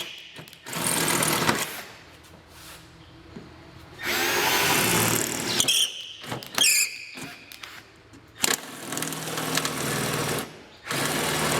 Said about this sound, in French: On pointe et on perce.